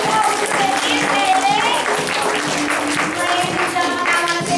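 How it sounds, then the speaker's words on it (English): An audience claps along at a lively event while voices and singing carry over the top. The clapping is loud and dense, with many hands together in a steady patter. "One more round of applause."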